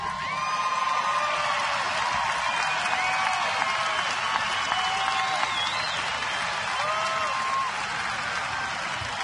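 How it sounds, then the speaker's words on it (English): A baseball crowd at Comerica Park in Detroit, during a 2010 Washington at Detroit game, applauds and cheers the returning catcher Pudge Rodriguez. Sustained distant clapping and crowd roar are dotted with whoops and whistles for about nine seconds. "So Pudge gets a nice round of applause in his return to Comerica Park"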